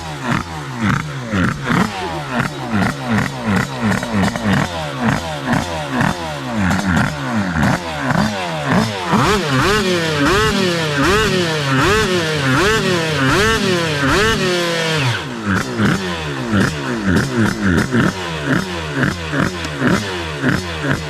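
A 2Fast twin-cylinder 208cc dragster scooter engine revs hard and loud, rising and falling in repeated sweeping bursts with a rasping, high-pitched howl, close by and dominating throughout.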